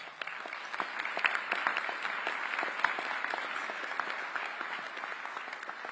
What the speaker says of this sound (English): give the band another round of applause, please